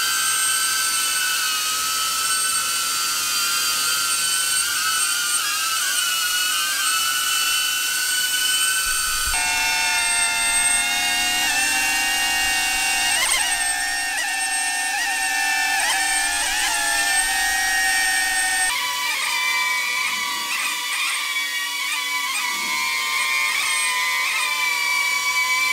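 Propellers of a DJI Avata drone whine steadily in flight, a loud high-pitched buzzing drone whose tone shifts a few times as the props change pitch, with no talking.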